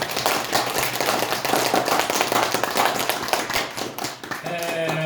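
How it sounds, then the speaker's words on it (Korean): Church congregation at a New Year service giving a round of applause, brisk scattered hand claps layered into a loud, steady crackle, thinning toward the end as a sustained tone comes in. "하나님께 우리 영광의 박수 한번 드려요."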